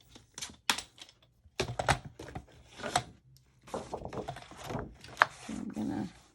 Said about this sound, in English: Now we got the paper trimmer.